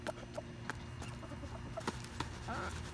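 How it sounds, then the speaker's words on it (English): Chickens being fed pumpkins cluck in short, scattered calls close by, one bird briefly louder, over a low background hum. "this is going to be a quick video feeding the chickens"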